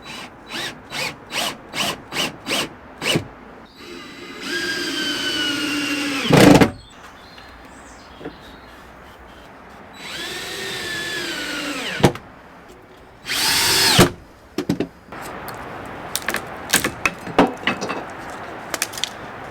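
A power drill drives screws through wooden cabin sides into the base, with short rapid bursts, then longer whirring runs that rise and slow, and a few sharp knocks between them, loud and close.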